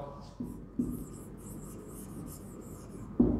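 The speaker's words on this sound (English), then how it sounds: "next here I would write rabi crop" A teacher writes on a board in a classroom during a science lesson, producing soft, steady scratching strokes with a few firmer taps at the start and end of the writing, close and moderately quiet.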